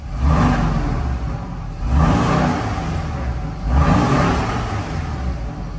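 A Porsche 718 Boxster T engine revs with the exhaust valve open, rising three times to a limited peak and falling back between pulls, loud and close with no talk.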